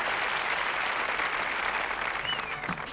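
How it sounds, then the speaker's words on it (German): Studio audience applauding on a German television show, a steady dense wash of clapping that holds for the whole stretch, with a brief whistle-like tone rising near the end. "Vielleicht können Sie noch mal applaudieren."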